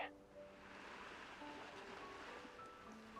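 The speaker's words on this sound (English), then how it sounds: "Why do I hear waves in the back?" Soft ocean waves wash continuously in the background of the LADS video game scene, a faint steady surf hiss with low tonal hums layered over it.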